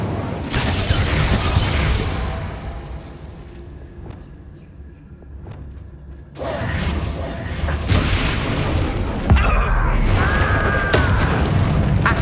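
An Incendio fire spell in Hogwarts Legacy bursts out with a loud whooshing boom, followed by a quieter stretch of crackling and clicks, then a second swell of roaring flame and impacts.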